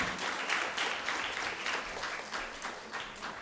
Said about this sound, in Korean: 뜨거운 박수로 모근균 교양교육원장님을 맞이해 주시기 바랍니다.